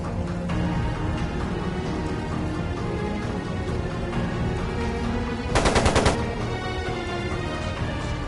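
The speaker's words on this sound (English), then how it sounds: "It sounded like a machine gun." Machine gun fire in Trails of Cold Steel 2, a rapid burst of rattling shots standing out sharply for about a second over a continuous background of music and ambience.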